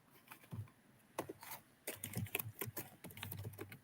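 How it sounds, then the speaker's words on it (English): Someone types on a computer keyboard nearby, the keys clattering in irregular bursts with short pauses, densest in the second half, with no talk over it. "She's typing."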